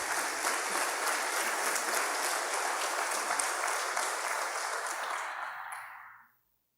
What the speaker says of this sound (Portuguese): Quantos podem aplaudir o Senhor Jesus?